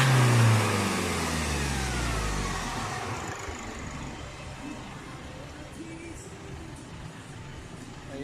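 A remapped Nissan NP300 pickup with an add-on tuning box revs hard at first, then the engine note falls away into a steady, rough mid-pitched drone that holds loud and close for several seconds.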